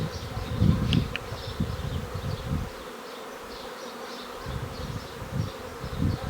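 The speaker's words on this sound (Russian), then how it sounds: "все остальные пчелы будут сидеть возле матки." Buzzing drone of a honey bee swarm clustering around its queen, a steady close hum that swells and dips slightly throughout, with no voices.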